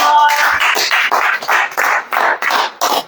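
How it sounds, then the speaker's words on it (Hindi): A church congregation claps together in a firm, even beat, each clap sharp and close with brief gaps between, and no talking over it. "ताली बजाएं"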